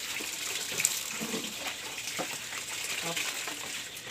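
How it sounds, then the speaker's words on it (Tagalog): Hot water poured out in a steady, moderately loud running-water sound, with faint talk in the background. "Pinuusan natin ng mainit na tubig."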